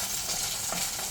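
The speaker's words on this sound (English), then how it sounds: "Let me just stir this garlic." Garlic frying in a pan for Thai pad krapow is stirred steadily, giving a continuous close hiss of sizzling oil with faint scraping and no talking.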